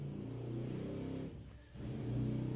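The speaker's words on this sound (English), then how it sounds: "my neighbor has an amazing motorcycle, which you're hearing every morning" A loud, tricked-out neighbor's motorcycle revs and rumbles as it passes by in the morning, its engine note dipping briefly before swelling again, heard alone without talk.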